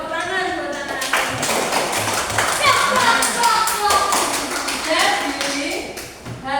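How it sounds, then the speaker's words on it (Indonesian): Children in a classroom applaud together, a dense patter of many small hands clapping for several seconds amid excited kids' voices and chatter. "Tepuk tangan buat anak-anak."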